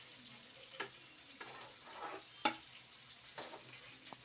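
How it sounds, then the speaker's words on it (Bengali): Eggplant slices shallow-frying in oil for a Bengali tel begun dish, a steady close sizzle with scattered sharp pops and spatters, no voices. "দেখো আমার বেগুন ভাজা হয়ে গেল হালকা করে।"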